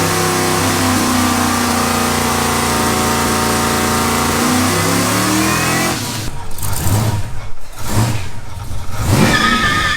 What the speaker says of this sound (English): we're gonna finish it off with a big ass burnout in my dad's garage